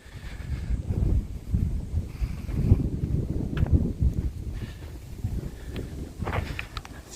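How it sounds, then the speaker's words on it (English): Gusty wind buffets a homemade microphone on a walk near Minami-Machida station in Tokyo, producing uneven low rumbling bursts that rise and fall throughout, with faint footsteps underneath. "It's really windy."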